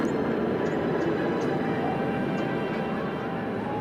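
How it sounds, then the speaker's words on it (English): An airplane passes overhead during an outdoor film shoot, making a steady, broad engine roar that fills the whole stretch at an even loudness, with no clear speech over it. "film this scene while there's an airplane going overhead"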